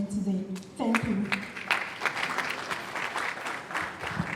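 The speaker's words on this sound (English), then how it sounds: "Please, let's keep applauding till she exits the stage." A conference audience applauds, dense clapping that stays loud for several seconds as a voice speaks over the start of it.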